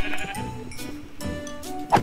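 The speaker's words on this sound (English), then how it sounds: "Oh my God, thank God I found sheep." Sheep in a Minecraft modpack give short bleats, a couple of them, over soft steady game tones.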